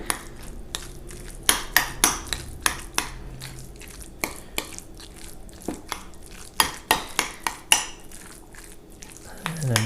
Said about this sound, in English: And I'm just stirring this up.